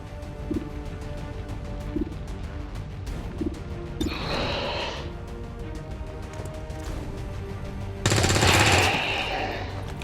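Rapid automatic gunfire from the XCOM 2 War of the Chosen tactical game, a steady rattling stream of shots under a low game ambience, with two louder crashing bursts standing out.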